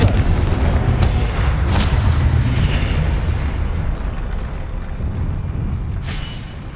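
A Confringo fire spell blasts in Hogwarts Legacy, a heavy booming explosion with a deep rumbling roar that tails off slowly over several seconds, a couple of sharper cracks near the start.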